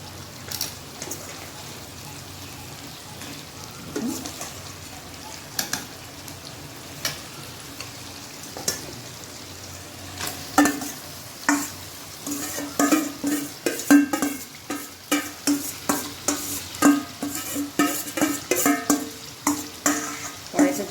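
Yogurt-marinated chicken hits a pan of tomato, onion, ginger and garlic masala and fries with a steady sizzle, while a spoon scrapes and stirs in irregular clacks that grow busier and louder toward the end.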